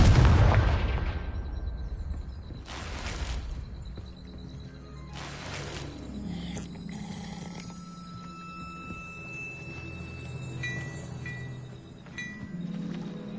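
A Confringo fire spell bursts in Hogwarts Legacy with a loud, close explosive blast at the start. Two more sharp impacts follow a few seconds later, then crackling debris and a low game ambience trail off.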